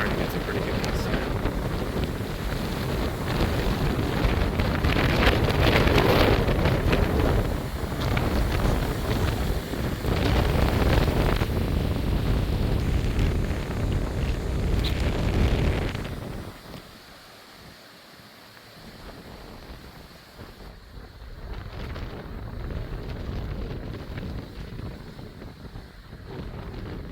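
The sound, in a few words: gusty wind during thunderstorm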